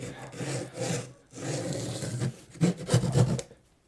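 A steak knife saws back and forth through material in short rasping strokes, close and fairly quiet, with brief pauses between bursts.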